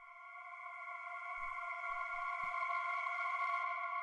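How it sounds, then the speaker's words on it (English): Dark, processed choir sample for industrial techno, a sustained layered vocal pad with a steady, slowly swelling tone, joined by a few low thumping hits midway, with no talking. "the next thing that we have here is this little choir sound"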